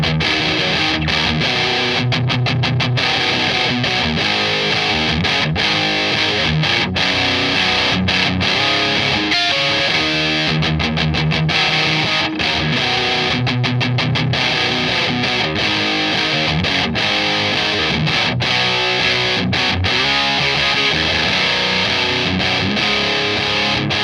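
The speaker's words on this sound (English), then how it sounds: "To me, it still sounds like an op-amp style distortion." An electric guitar played through a Boss op-amp style distortion pedal, likely a DS-1 variant, with loud, saturated chords and riffs filling the clip continuously, no voices.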